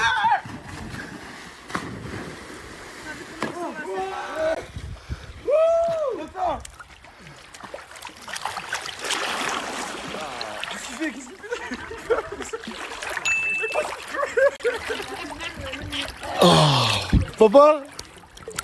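Water splashing and sloshing in a swimming pool as a father joins his son, with intermittent splashes and trickles under frequent nearby speech and children's voices.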